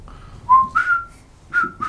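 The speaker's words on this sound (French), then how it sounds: "je siffle tellement bien que ce serait dommage de s'en passer" A person whistles a few short, clear rising and sliding notes, close and loud, with brief gaps between phrases.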